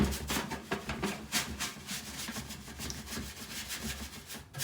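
Wise Owl Salve rubbed by hand with a cloth over a rusty area of an old thrifted piece, giving a steady run of soft, close scuffing strokes with no talk.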